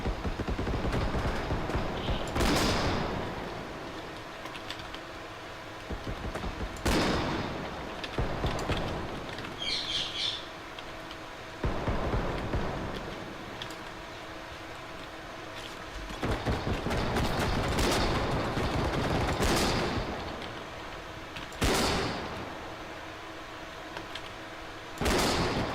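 A hand cannon fires in a shooter video game, each booming shot landing several seconds apart across the stretch. The blasts are loud and sharp, with no talking between them.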